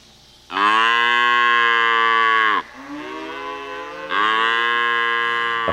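A black beef cow on a ranch moos loudly and close, two long bellowing calls separated by a brief pause as she calls for her missing calf, with no voices.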